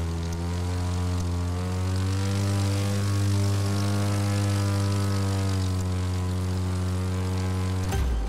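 Propeller airplane engine in the racing game The Crew 2, a steady loud droning hum with strong layered harmonics held throughout, shifting slightly near the end, with no talk over it.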